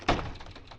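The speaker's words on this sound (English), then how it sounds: "there went my door" During a 2010 blizzard, a door closes with one dull, muffled thud near the start, followed by faint quiet background and no talking.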